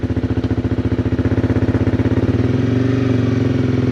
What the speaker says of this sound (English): But the engine sounds strong. That exhaust is a bit of an annoying sound